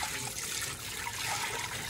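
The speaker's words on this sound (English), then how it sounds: "And now I'm gonna pour this beautiful broth." Broth poured through a small kitchen strainer makes a steady close splashing trickle of liquid that runs continuously without a break.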